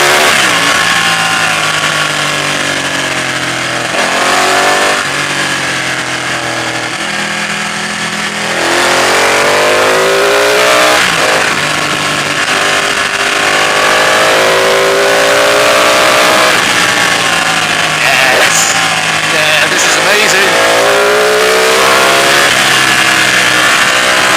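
A Ducati 899 Panigale sport motorcycle engine revs hard and close on the road, climbing through the gears in repeated rising sweeps, loud and continuous throughout.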